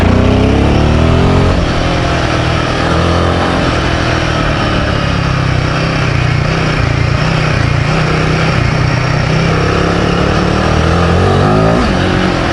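Royal Enfield Himalayan 450 motorcycle engine pulls hard under throttle, its loud continuous drone rising in pitch early on, then holding a steady, rough roar with wind noise throughout.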